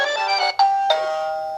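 A Mubview smart doorbell plays a bright electronic chime of three ringing tones, the last one sustaining and slowly fading, clear and close with no talking.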